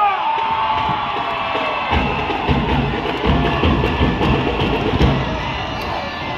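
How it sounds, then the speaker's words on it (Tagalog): A large outdoor political rally crowd in Cavite cheers and shouts loudly for a senator, a sustained roar of voices and whoops with no break across the whole stretch. "isang malakas na sigawan para kay Senator Francis Paul Tolentino"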